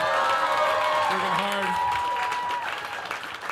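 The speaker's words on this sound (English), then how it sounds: "please clap it up for the fantastic box office staff and the bar staff" Audience applause at a live comedy show in Hollywood, a steady wash of clapping with some cheering that fades toward the end, while the comedian's voice carries over it.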